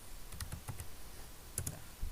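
Someone types a filename on a computer keyboard: a quick run of sharp, close key clicks in small clusters with short pauses, fairly quiet and without talk.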